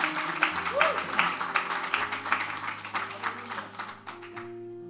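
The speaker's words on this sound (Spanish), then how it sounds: "Está difícil esos aplausos." A church congregation claps in a loose, uneven patter that thins out over a few seconds, with a voice talking over the clapping.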